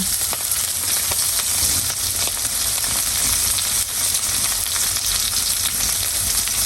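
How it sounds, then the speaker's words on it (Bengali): Chopped garlic, onion, green chili and cumin frying in hot oil, a loud, dense, steady sizzle and crackle with light stirring, close and continuous throughout. "এবার আমি দেবো রসুন কুচি, এবারে পেঁয়াজ কুচি, কাঁচামরিচ, দেবো একটু জিরা"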